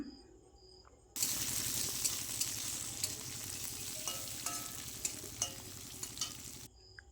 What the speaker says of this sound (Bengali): গাজরটাকে ভেজে নেব। একটু তেল দিয়ে দিলাম।